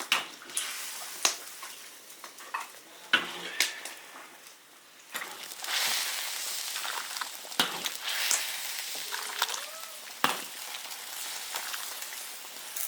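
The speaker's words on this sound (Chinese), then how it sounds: "猪肚捞出来炒" Pork tripe sizzles and spatters in a hot iron wok, a loud, hissing crackle broken by sharp scraping strokes of the stir-fry.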